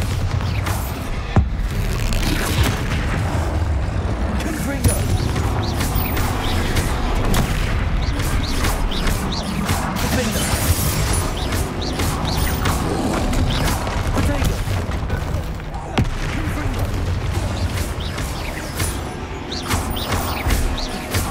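Bombarda spell explosions from the video game Hogwarts Legacy during a troll fight boom repeatedly over dense, continuous combat clatter and crashes, loud and close throughout.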